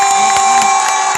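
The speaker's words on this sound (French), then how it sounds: "Il mérite un tonnerre d'applaudissements" An audience at a French film premiere of Aladin cheers loudly, with excited shouts and whoops rising and falling in quick bursts.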